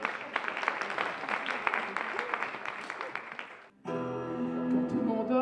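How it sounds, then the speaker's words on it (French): Applause from the audience at a regional French-song contest in Torcé-en-Vallée, men's category, a brisk clatter of clapping that fades out, then music with a sustained tone takes over. "Sous vos applaudissements"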